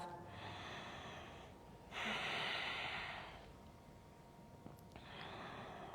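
Deep, audible breaths during a yoga lunge in a Forrest Yoga hip-release class: a slow inhale, then a long, forceful exhale, then another breath, all close and clear with no talking over them.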